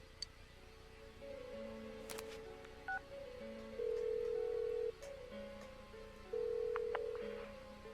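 Phone dialing in the game Persona 4 Golden: a string of short electronic keypad tones followed by longer sustained ringing tones, quiet and clean, with no voices.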